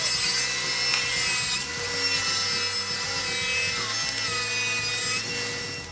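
A hand saw cuts through a walnut spline piece for a hickory keepsake box, a steady back-and-forth rasping of close, continuous strokes with no talking.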